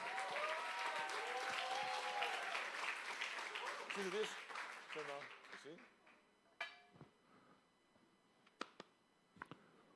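A church congregation applauds during a Sunday service, a dense wash of clapping mixed with voices for about five seconds, then it dies away to a few scattered claps and thumps.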